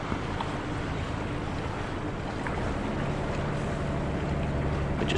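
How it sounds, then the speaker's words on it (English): A sailboat motoring out of a channel against the incoming tide in Greece, a low steady engine drone under rushing water and wind noise, continuous and close with no speech. "We're just having to motor out against it, and then we'll get out of the channel and put the sails up."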